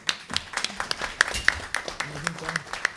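Scattered hand claps from a small audience at a public commission meeting on discrimination and Afro-Indigenous culture, greeting a colleague from a diversity and inclusion office; brief uneven claps mixed with voices in the room.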